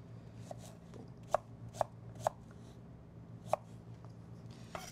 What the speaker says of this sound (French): Puis on fait des petits dés.